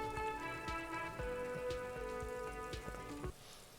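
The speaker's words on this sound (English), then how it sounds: "Rain drips from the eaves and floods the gutters, washing the filth away." Rain falls steadily on a city street in Disco Elysium, a soft dense patter of drops under a sustained musical drone with scattered sharper taps, ending with a fade near the close.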